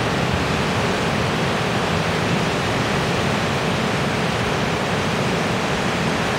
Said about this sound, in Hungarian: a folyó zenéjét